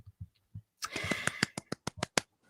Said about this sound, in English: That's my little clap for you, Emma.